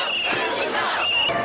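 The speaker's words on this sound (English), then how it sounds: "Traffic comes to a halt in the financial district as rallying crowds swamp the streets" Dense crowd din of a rallying Occupy Wall Street protest filling a New York financial district street, a continuous wash of overlapping voices and shouts held close and steady with no break.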